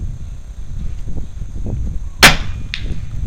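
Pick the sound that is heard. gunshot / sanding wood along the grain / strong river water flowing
gunshot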